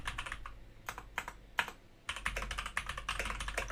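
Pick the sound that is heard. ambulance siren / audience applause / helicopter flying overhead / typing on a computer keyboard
typing on a computer keyboard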